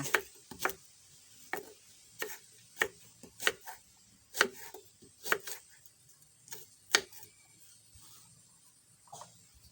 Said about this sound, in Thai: หั่นมะม่วงกันเลยค่ะ ค่ะเราจะใช้มะม่วงแค่ครึ่งลูกค่ะ หั่นเป็นชิ้นเล็กๆ ค่ะ